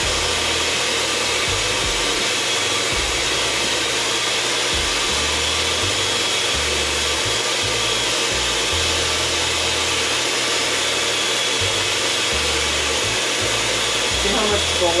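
An electric mixer whips egg whites for low-carb oopsie bread, a loud, continuous motorized whir with slight grinding fluctuations as the beaters churn, running steadily without pause throughout.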